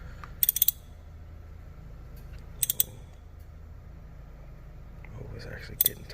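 Ratchet tightening a spark plug in a Ford engine, three short bursts of quick metallic clicks spaced a couple of seconds apart over a low background hum, with quiet talk in between.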